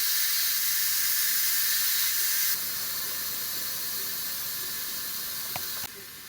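Loud, steady jet of steam hissing from an Instant Pot valve during quick release, dropping slightly in strength partway through, with a couple of faint clicks near the end.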